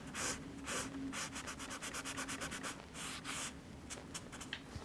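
Powder is pressed and rubbed into cardstock in close, brisk scrubbing strokes, some quick and clustered and others longer, with no talking.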